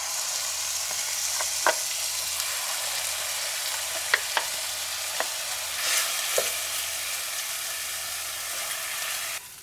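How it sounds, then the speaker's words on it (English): Minced onions and garlic fry in olive oil in a pan, a steady close sizzle broken by a few sharp clicks and scrapes of stirring, with no one talking. "Then fried in olive oil for 5 or 6 minutes."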